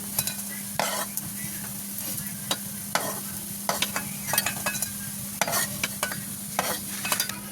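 Taro leaf fritters fry in hot oil with a steady close sizzle, broken by repeated sharp clinks and scrapes of a utensil lifting them out.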